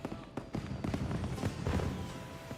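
Fireworks in the video game Monster Hunter Wilds burst in a quick irregular series of sharp pops and crackles, moderately loud over a low background.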